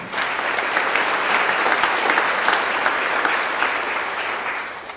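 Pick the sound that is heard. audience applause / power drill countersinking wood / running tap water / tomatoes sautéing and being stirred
audience applause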